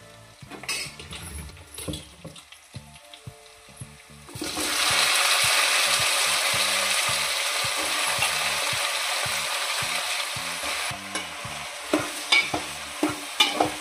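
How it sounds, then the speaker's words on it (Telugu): Eggplant pieces drop into a hot pan of oil and curry leaves, and a quiet stretch turns into a sudden loud, steady sizzle. Close, rhythmic clatters of stirring follow toward the end. "ఇప్పుడు వంకాయ ముక్కలు వేసేసుకుందాం"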